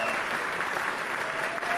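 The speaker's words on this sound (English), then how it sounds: "let's get some applause in here for them" A crowd applauds steadily at a live event, with dense, even clapping that carries through the whole short stretch and no pauses.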